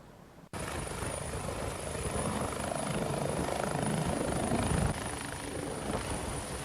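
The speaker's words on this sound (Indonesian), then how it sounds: "PJ Gubernur Sumatera Selatan Agus Fatoni tiba di Muratara dengan menggunakan helikopter" Helicopter flying in to land at Muratara in South Sumatra during flooding, its steady rotor and engine roar loud and continuous throughout, starting abruptly and building slightly.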